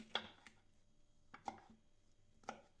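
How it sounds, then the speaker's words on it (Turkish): Three or four crisp knife chops slicing peppers lengthwise on a cutting board, spaced about a second apart, close and quiet with no talking. "ben şimdi biberlerimi şöyle uzun bir şekilde doğrayacağım."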